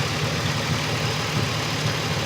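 A Pontiac Grand Prix with the General Motors 3.8-litre engine idling under an open hood, a steady low drone with a slightly raspy rumble, close and continuous.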